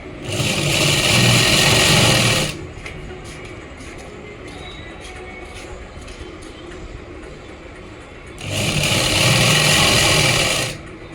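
A sewing machine runs in two loud, close bursts as it stitches folded salwar fabric, whirring rapidly for about two seconds each. A quieter stretch of handling noise falls between the bursts.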